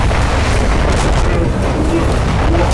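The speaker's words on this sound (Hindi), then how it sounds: "जबालिया में इजरायल ने हमास के 3 ठिकानों पर बमबारी की" A heavy, rumbling boom from bombing in a Gaza air strike, a dense, continuous low roar filling the whole moment, loud and close.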